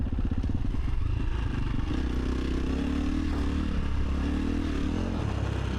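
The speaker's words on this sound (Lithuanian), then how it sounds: "Motociklas jau pradeda man stipriai šokinėti, nes gazo kontrolė dingo iš vis." Cross-country race motorcycle engine running loud and steady throughout, its pitch wavering and rising in uneven surges amid rattling clatter, heard up close with no talking.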